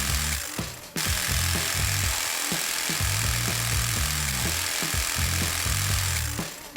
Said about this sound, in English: Using a jigsaw, we easily cut the OSB sheets along the Zaranier marked lines.